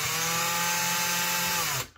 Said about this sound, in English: slowly pull the trigger until the chuck releases